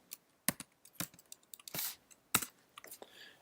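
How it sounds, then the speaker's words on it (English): Someone types on a computer keyboard while entering a name into a Facebook Page roles setting: quick, irregular clicks with a few louder keystrokes, close and fairly quiet, and no voices. "From here you can type the name of your colleagues"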